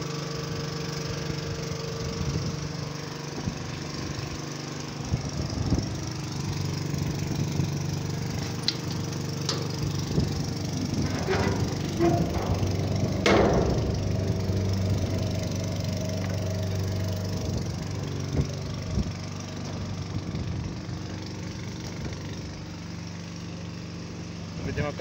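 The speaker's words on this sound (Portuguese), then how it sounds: "Olha o motorzão zoando aí." A large engine runs steadily at a constant drone while a load is unloaded beside a slope, with knocks, scrapes and clattering over it and people talking now and then.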